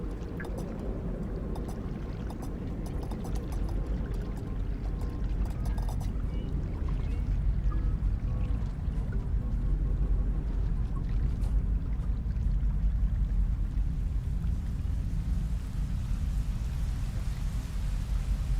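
Heavy rain falls in the video game Rain World, a dense, continuous rushing downpour that stays loud and steady, growing slightly heavier midway, with no voices.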